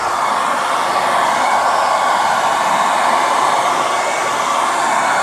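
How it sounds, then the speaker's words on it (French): A hair dryer blows steadily on car dashboard trim during a swap from fake carbon to real carbon fibre panels, a loud, even rushing whoosh that holds without a break. "on va passer un petit coup de sèche-cheveux"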